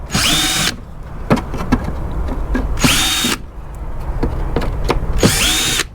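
A power drill working rusty screws out of scrap, three loud whirring bursts spaced a couple of seconds apart, with scraping and knocking of metal handled in between, close up and without talk.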